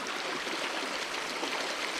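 Creek water in the Australian bush rushes and burbles steadily, a close, continuous broadband flow with no voices over it.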